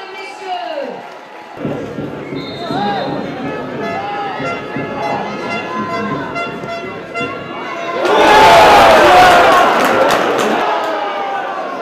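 Football crowd at an Armentières versus Lens Ligue 2 match cheering and roaring, swelling into a loud burst near the end over steady stadium noise, with someone talking throughout.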